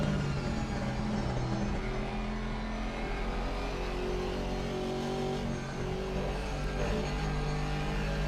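Ferrari race car in a sim racing game closing in from behind at night, engine drone steady and continuous, blended with other cars' engine hum throughout, no voices.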